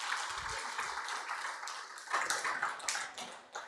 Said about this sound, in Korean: 우리 박수 한 번만 더 부탁드립니다